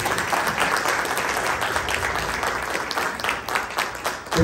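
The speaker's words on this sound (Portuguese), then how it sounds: "Uma salva de palmas para ele." An audience at a music show applauds warmly and steadily for a guest conductor, with a busy crowd texture throughout.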